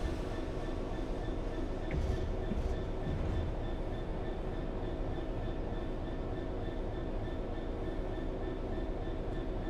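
A diesel train engine idles in Train Sim World 4, a steady low rumble and hum that holds evenly throughout at moderate level with faint high tonal whine above, no clear talk over it.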